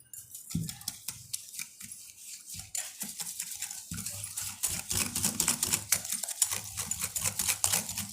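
Metal whisk or spoon clinking and scraping against a bowl while sugar and baking powder are mixed for cupcake batter, a busy run of close, irregular taps and scrapes that grows denser as it goes.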